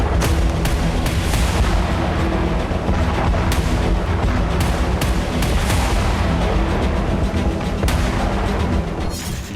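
A large explosion of an oil tanker hit by a Russian drone strike in Ukraine, with spreading fire: sustained loud rumbling booms and crackling blasts that continue heavily throughout, with repeated sharp bursts and no talk.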